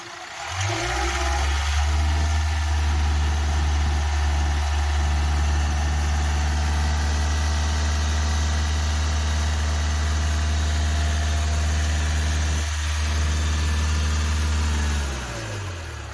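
A Hyundai i20 Asta CRDI diesel engine cranks and starts, then runs with a steady low idle and a few light revs before cutting off, close and loud with no talking.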